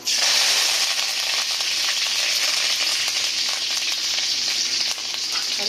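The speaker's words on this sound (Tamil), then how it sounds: "கடுகு நல்லா பொரியணும்" Mustard seeds splutter in hot oil, a dense, continuous crackling hiss that stays loud and close from start to finish, with no voices.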